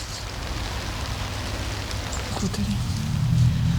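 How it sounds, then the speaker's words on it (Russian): Rain falling outdoors on a countryside farmstead, a dense steady patter that thickens toward the end, with faint low rumbles and occasional small knocks underneath. "Дождь пошел."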